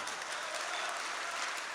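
An audience at a mushaira poetry recital gives steady, moderate applause, a continuous patter of many hands clapping at once from a crowd in a hall.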